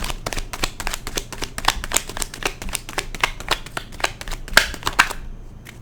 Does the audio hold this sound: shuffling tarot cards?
yes